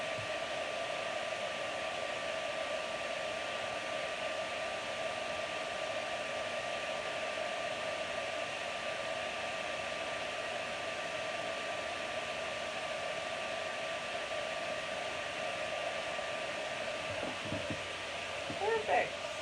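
A heat tool for card making warming up, giving a steady loud whooshing blow of air with a fan hum that holds unchanged throughout, with a brief clatter near the end.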